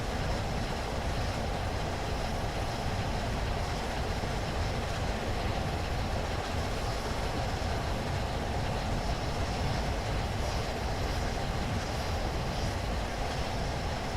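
The Flying Scotsman steam locomotive in the game Train Sim runs on, a continuous, even rumble of rolling train noise with a faint rhythmic chuffing beneath, steady and unbroken throughout.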